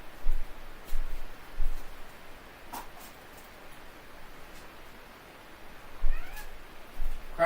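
A cat meowing repeatedly for crackers and butter, several short meows spaced a second or two apart, fairly close, with a quiet pause in the middle.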